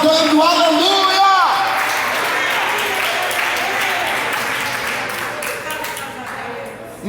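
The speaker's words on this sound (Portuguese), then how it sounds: "Aplauda dando glória, aplauda dando aleluia." A church congregation applauds in a sustained wash of clapping lasting several seconds, fading slightly toward the end, with a preacher's voice speaking at the start.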